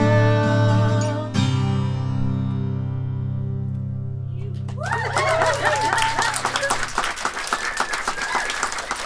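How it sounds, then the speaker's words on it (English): Audience applause and scattered cheering at a live rock concert, a dense wash of clapping that swells in after a held musical chord fades out. "They're applauding for us."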